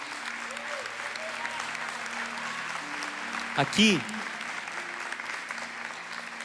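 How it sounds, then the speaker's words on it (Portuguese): An audience at an event applauds with a steady wash of clapping while someone speaks briefly over it and a short thump cuts in. "Pode aplaudir esses guerreiros."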